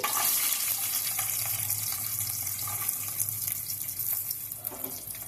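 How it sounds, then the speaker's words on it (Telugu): Cashews fry in about two tablespoons of hot ghee, giving a steady close sizzle with soft crackles and occasional stirring clinks, constant throughout. "ఇప్పుడు మనం జీడిపప్పులు వేసుకొని వేయించుకోవాలి"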